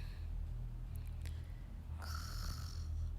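A character snores in the life-simulation game InZoi, a low rasping sawing breath that runs steadily, with a brief higher snort near the end, and no talk over it.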